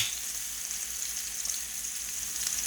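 Oxtails brown in a hot pan with a steady, close sizzle and spitting crackle that continues evenly throughout.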